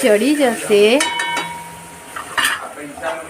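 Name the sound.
stirring potatoes and poha in a pot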